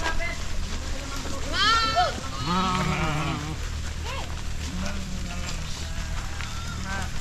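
Sheep and goats bleat on a ranch pasture, several wavering cries overlapping close by in the first half, then fading to sparser calls over a steady outdoor background, with people talking.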